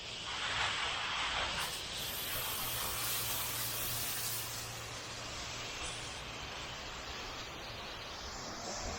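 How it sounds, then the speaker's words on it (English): A pressure washer sprays water onto a building during a large cleaning job, a loud steady hiss of spray with a low pump drone underneath, continuous throughout. "We're gonna spray all this, clean it all up for them, make it look nice."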